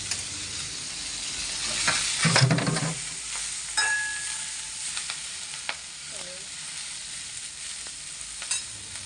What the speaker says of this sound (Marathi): मेथी अशी परतून घेणार आहोत